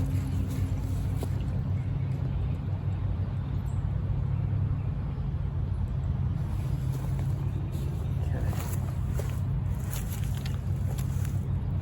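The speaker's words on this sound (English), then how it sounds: "It's pumping. It's filling it up." A well pump runs steadily while filling a pressure tank, giving a continuous low motor hum and a rushing drone that hold even from start to finish, with faint voices now and then.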